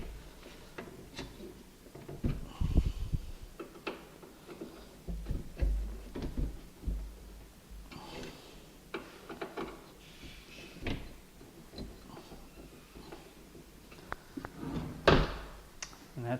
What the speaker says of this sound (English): If the drawer is further away on one side or the other, then you just slide this one direction or the other